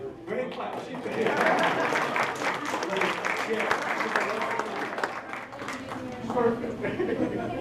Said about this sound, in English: Great clap.